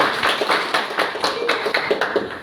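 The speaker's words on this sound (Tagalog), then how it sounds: "Bigyan ng palakpak sa Mr. Judel." A classroom gives a student a round of applause, with many hands clapping in quick, uneven bursts at moderate loudness for a couple of seconds and no voices over it.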